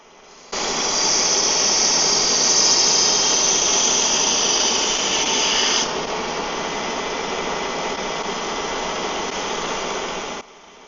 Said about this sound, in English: this is the Ken Onion Mark II. It is made by a company called Work Sharp, and it is a belt sander specifically made for knife sharpening